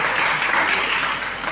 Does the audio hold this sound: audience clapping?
yes